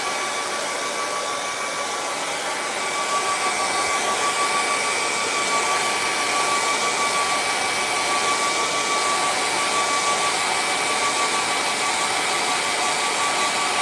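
A hair dryer blows over wet acrylic paint on a canvas, a loud, steady close-up whooshing roar with a thin tonal whine, running unbroken for the whole stretch.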